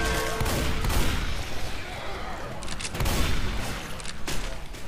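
Heavy, continuous gunfire and booming blasts from Left 4 Dead 2, with an auto shotgun among the weapons, rattling loud and dense throughout with brief louder bursts and a faint voice underneath.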